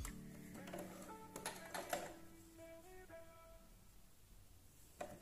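A sewing machine hems a folded edge of scrap fabric for a shopping bag, running in short, faint whirring bursts with pauses between stitches, heard quietly at close range.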